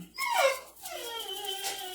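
Dog whimpering in a kitchen, a pair of drawn-out high whining moans that slide downward in pitch, the second longer and fading, fairly close and alone.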